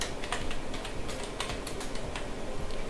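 Steady computer keyboard typing at close range while entering details into business management software, the keys clicking in quick, uneven bursts throughout with no talk.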